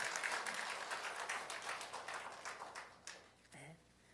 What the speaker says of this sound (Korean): 하나님께 영광의 박수 올려드리시기 바랍니다